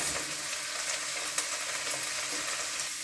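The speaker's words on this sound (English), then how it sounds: "you want to add your onions and your mushrooms" Onions and mushrooms fry in olive oil in a pan, giving a steady, even hiss of sizzling with a faint stir, close by and without speech.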